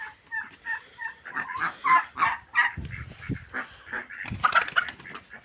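Squabbling chickens, including Brahma hens, in a backyard coop, a series of close, loud honking squawks and cackles in bursts, with scuffling between calls.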